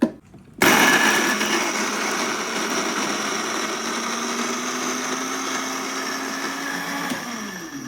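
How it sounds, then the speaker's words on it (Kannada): An Agaro blender with a four-leaf blade grinds chutney in a small 300 ml jar, starting abruptly after a brief quiet moment and then whirring loud and steady at close range, with a slight pitch shift near the end. "ಅದ್ರ ಜೊತೆ ಬ್ಲೆಂಡರ್ ಯೂಸ್ ಮಾಡತ್ತೇವೆ."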